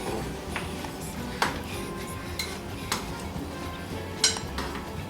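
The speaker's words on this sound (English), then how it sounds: "And now, I'm going to cut the meat." A knife cutting Korean BBQ galbi meat on a plate or board, with sparse clinks and taps of metal on dishware scattered over a low background hum and no talking.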